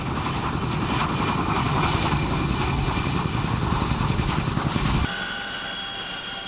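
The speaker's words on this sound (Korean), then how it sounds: "헬기 한 대가 무장한 특전 대원들을 싣고 하늘로 이륙했다" A military helicopter carrying armed special forces troops lifts off in a loud, steady, close roar of engine and rotor noise that drops abruptly to a quieter hum near the end.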